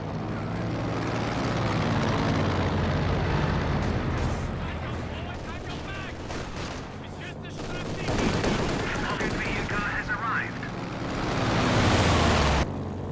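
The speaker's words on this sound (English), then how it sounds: "The skill plane slams into DevM's forces, no damage caused, but it was a great pyrotechnic display." A plane strike lands on enemy forces in a World War II strategy game, bringing dense rumbling explosions and bursts of gunfire that swell and fade across the battle. A voice commentates over the din throughout.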